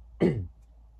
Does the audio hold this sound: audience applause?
no